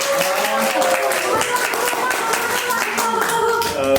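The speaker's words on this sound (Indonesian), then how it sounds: "Oke, beri tepuk tangan dong." Hands clapping in a casual student podcast studio setting, a short burst of applause from a few people lasting several seconds, with voices talking over it.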